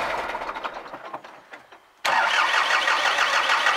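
Car engine in winter cold, around minus two to four degrees, cranking with a troublesome starter for a couple of seconds, then catching and settling into a steady, loud idle.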